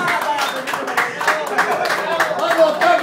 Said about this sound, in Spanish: quiero brindar un fuerte, pero fuerte, pero fuerte aplauso para don Pepe